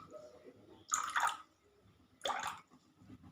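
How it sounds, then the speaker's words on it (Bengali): Two short splashy pours of spoonfuls of water into vinegar in a home kitchen while making paneer, each a brief wet trickle about a second apart, close and fairly quiet with no talking. "এই 2 চামচ ভিনিগারের সাথে আমি 2 চামচ থেকে 3 চামচ পরিমাণ জল অ্যাড করে দিচ্ছি"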